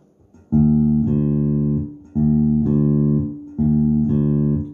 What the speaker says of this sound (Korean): 3번 줄 감습니다. 음을 높입니다.